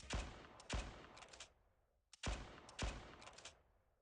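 Video game gunfire from Blue Archive plays in two matching bursts, each opening with sharp shots followed by a quick rattling volley, separated by a brief pause and fairly faint overall.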